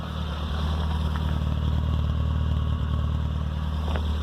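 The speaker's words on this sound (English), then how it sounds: "They just sound really tappety. It's an overhead valve engine in old design." An old overhead-valve Mini Cooper MPI engine idles steadily up close, a low rumble with a rapid, even tappety mechanical ticking running over it throughout.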